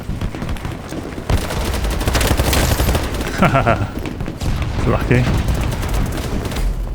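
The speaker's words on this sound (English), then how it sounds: "Got a grenade down to that guy." Grenade blast and gunfire in the video game BattleBit Remastered, a heavy burst of explosive noise followed by rapid shots and rumbling, with a player speaking briefly over the combat.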